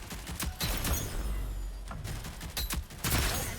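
Assault rifle fire in the Rogue Company shooter game comes in rapid bursts of shots separated by brief pauses, fairly quiet overall.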